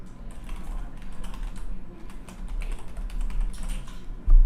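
Someone types an email address on a computer keyboard, producing a steady run of soft, close key clicks at an even pace with no voices, ending in a slightly louder thump.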